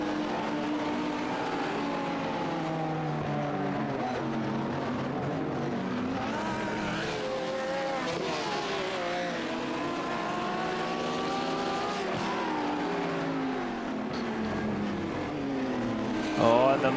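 Sim race cars on the Belle Isle street course in a racing game drone and whine continuously, engine pitch rising and falling through corners, with race commentary running over them.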